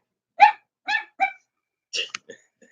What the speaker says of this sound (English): I don't know what she's barking at.